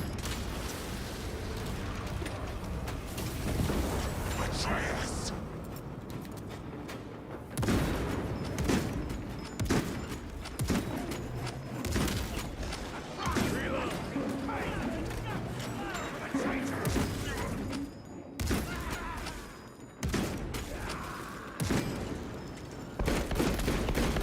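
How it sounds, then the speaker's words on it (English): Sniper rifle fire cracks out in Space Marine 2 as sharp, heavy shots recur irregularly amid clanking mechanisms and ongoing battle noise, with a voice talking intermittently over the action. "sniper rifle hits hard"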